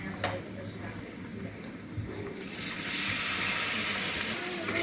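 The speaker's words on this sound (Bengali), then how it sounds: "এটাতে এখন একটু পানি দিয়ে দিবে।" Water is poured into a pan of pangas fish curry with potatoes, cooked in a village kitchen; a soft sizzle gives way to a loud, steady hissing rush from the midpoint onward.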